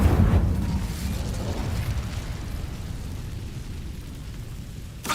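Incendio fire spell cast in Hogwarts Legacy: a loud roaring burst of flame that opens heavy and rumbling, then trails off into a steady crackling rush before a brief final pop.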